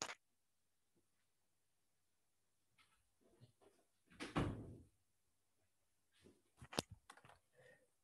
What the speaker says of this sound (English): Sorry, I'm closing my door